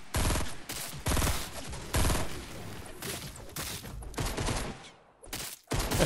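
Loud, rapid gunfire in Fortnite Battle Royale video game, several close bursts of automatic shots in quick succession separated by short pauses, with no talking.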